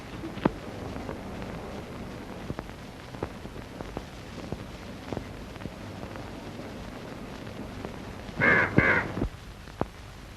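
A crow caws once near the end, a short, harsh burst of two or three raspy calls over a steady outdoor hiss scattered with faint ticks and small noises.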